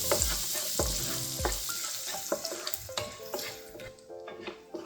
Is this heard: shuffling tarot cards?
no